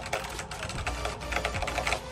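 Someone types on a cheap mechanical gaming keyboard in a quick run of crisp, clicky keystrokes. The keys sound close and fairly quiet, with no talking.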